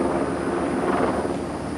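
A helicopter hovering overhead over a home garden produces a steady, continuous rotor-and-engine rumble, moderately loud and unbroken, with no voices.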